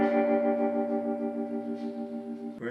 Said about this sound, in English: we've got the electric guitar playing a little tremolo, replicating what the string section is playing